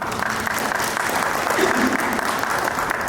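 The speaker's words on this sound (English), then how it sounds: "A round of applause for Angelique." A conference crowd at AfriExpo 2023 claps in a thick, even roar of applause that holds steady and fairly loud for the whole stretch.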